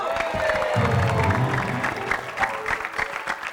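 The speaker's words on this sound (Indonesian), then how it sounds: "tepuk tangan." A studio audience applauds a guest star on an Indonesian comedy show, with a burst of dense clapping and crowd noise that peaks early and then trails off into scattered claps.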